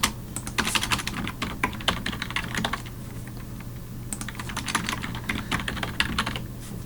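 Fast typing on a computer keyboard during a programming session, with dense clicking keystrokes that come in rapid bursts with short pauses, close up over a low steady hum.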